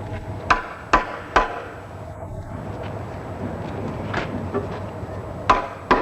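Hammer blows drive wooden rungs into a fruit ladder rail in traditional rural woodworking: several sharp, loud knocks come in an irregular series, with a few softer taps between them over a steady background hum.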